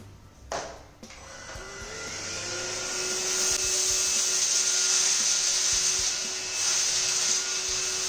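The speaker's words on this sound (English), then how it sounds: "So I'll show you the suction power of the vacuum cleaner." A KENT Zoom (16068) vacuum cleaner powers up after a couple of clicks and settles into a steady, loud whining suction hum while pulling up spilled lentils and rice, with no voices over it.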